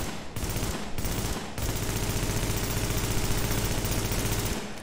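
Liberator rifle in an Unreal Engine 4 shooter modeled on The Division fires in rapid automatic bursts: two short bursts, then a long sustained stream of loud, close shots that cuts off abruptly.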